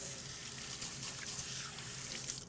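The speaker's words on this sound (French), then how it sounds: "Rincez les mains vite fait." Tap water runs steadily as hands are rinsed in a kitchen, a close, continuous splashing gush that fades slightly at the very end.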